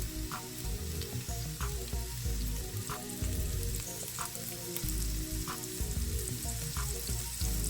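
Seasoned steak sizzling in a pan for a well-done cook, with loud, continuous frying crackle and occasional sharper pops and spatters, and no voices.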